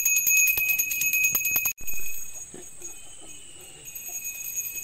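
A bell rings repeatedly, carried behind a traditional Konkan Nagoba idol immersion procession, with steady bright ringing in the first stretch and a noisier outdoor background afterward.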